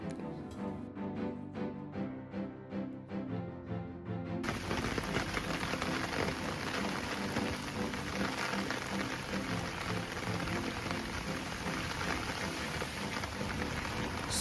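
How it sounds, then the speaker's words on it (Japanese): Heavy rain pours down steadily in a dense, loud hiss with patter on surfaces, joined after a few seconds by a louder wash of downpour that continues without a break. "すごい雨"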